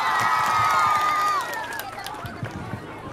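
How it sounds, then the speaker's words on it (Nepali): A live audience at a Nepali comedy and music stage show breaks into loud, dense cheering, whoops and applause that peaks early, then settles into a lower, steady crowd roar. "मेरो कुरो मन पर्यो भने जोरदार ताली बजाइदिनुहोस् त एकचोटि"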